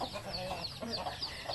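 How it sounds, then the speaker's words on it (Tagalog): Chickens cluck at feeding time on a small farm, several close, irregular, overlapping clucks and short calls repeating through the moment. "Manok niya po, o daghan po iyang manok."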